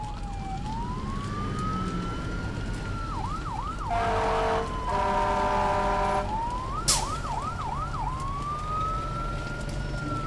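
An ambulance siren in the video game Dark Presences: Dark Awakening wails in clear rising and falling sweeps, briefly broken by a quick yelping burst and a sharp click before the wail resumes.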